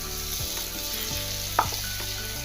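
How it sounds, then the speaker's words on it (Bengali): Spices and lentil dumplings (bori) sizzling loudly in a hot pan, a steady dense frying hiss that runs throughout, with one brief clink of stirring partway through and no speech. "মশলাগুলো দিয়ে আমি ভালো করে নাড়াচাড়া করব"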